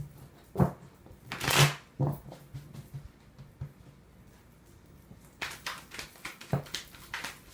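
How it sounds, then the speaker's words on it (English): Tarot cards being shuffled in quick riffling bursts, close and fairly loud, with pauses between rounds and a busier stretch of shuffling near the end. "One more shuffle."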